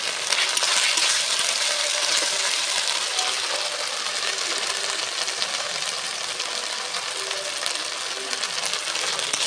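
Meat frying in a pan with ginger paste just added, a steady loud hiss and sizzle with faint clinks of stirring throughout, no voices.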